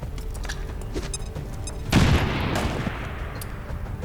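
In the video game XCOM 2, a burst of gunfire ends in a sharp booming explosion near the middle, followed by a short rumbling decay over quiet game background.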